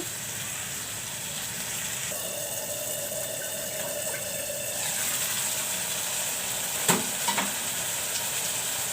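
Spices sautéing in a pan for a Bengali tangra fish curry, a steady broadband sizzle with faint scraping stirs and a couple of brief clinks near the end, no talking.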